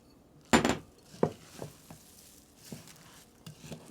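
Rolled oats being stirred into a thick biscuit dough for a 1939 Depression-era health biscuit recipe, a series of close, uneven scraping and thudding strokes, one loud at the start then softer ones spaced irregularly.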